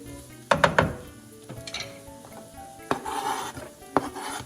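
Sliced garlic dropped into a pan for sautéing with eggplant, followed by close spoon stirring and scraping against the pan, with a few sharp clatters and a soft sizzle underneath.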